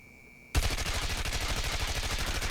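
A RUS-79U gun in a video game opens up abruptly after a quiet moment, unleashing a loud, fast, continuous burst of automatic fire with regular shot rhythm.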